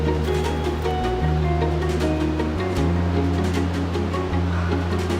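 Duke's Creek flows near Raven Cliff Falls on a Georgia hiking trail as a steady close rush of water, layered with a low droning hum that shifts pitch slightly.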